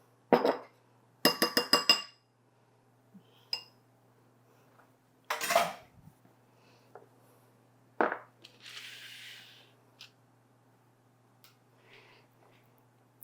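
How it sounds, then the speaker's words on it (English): A fork clinks rapidly against a glass bowl, beating egg wash for mini blueberry galettes in quick rattling bursts, separated by pauses and lighter single taps, close and fairly clear. "Take your fork, beat it up. You want it nice and frothy."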